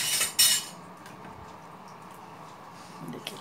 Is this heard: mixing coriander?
yes